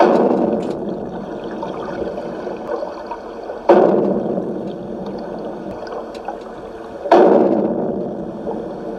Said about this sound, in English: they have these seismic survey ships. And they kick off these explosions every 10 to 15 seconds